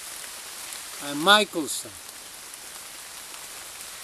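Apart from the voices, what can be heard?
soft rain falling outdoors under a tree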